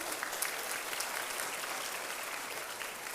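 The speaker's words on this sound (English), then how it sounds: "Clap, please." Applause at a freshers' induction programme for master's students, a steady, fairly faint patter of many hands clapping across the hall, continuous and even throughout with no talk over it.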